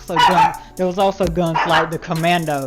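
Dogs bark repeatedly in quick, yappy bursts in the background while someone talks over them.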